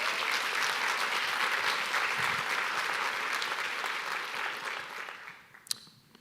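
Dense audience applause at a livestreamed conference session rolls on steadily for several seconds, then tapers off into a few scattered claps as the room quiets.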